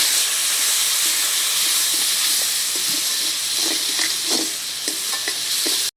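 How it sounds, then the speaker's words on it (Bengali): Spices with turmeric and chili powder sizzle loudly in hot oil in a pan, a continuous steady hiss with scattered scraping stir strokes throughout. "বেশ সুন্দর করে মশলাটাকে কষে নিয়েছি।"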